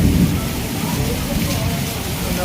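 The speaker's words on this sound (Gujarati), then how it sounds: "તો જો ધોધમાર વરસાદ ચાલુ થઈ ગયો છે નવસારીમાં આજે" Heavy rain pours down in Navsari as a storm builds, a dense, loud, continuous roar of water close by with no break.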